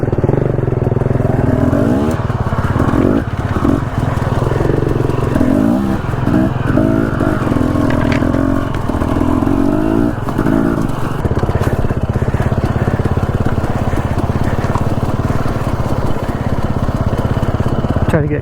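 A dirt bike engine drones loud and close while riding off-grid in the Idaho mountains, a continuous buzzing roar with small rises and dips in revs throughout.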